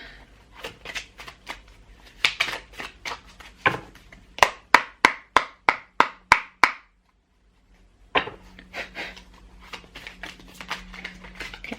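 Tarot cards shuffled by hand in a dense run of crisp riffling flicks, then a burst of sharp regular snaps, a short pause, and more softer shuffling, close and clear with no talk.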